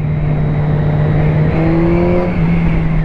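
A 2017 Kawasaki Z1000R motorcycle engine revs steadily with a rising pitch, loud and close, with no talk.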